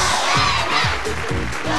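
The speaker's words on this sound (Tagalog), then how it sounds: "Palakpakan na may kasamang sigawan para kay Rowena." A studio audience on the Eat Bulaga variety show cheers and shouts for a contestant named Rowena, a loud, dense wall of crowd noise with a rhythmic pulse of clapping throughout.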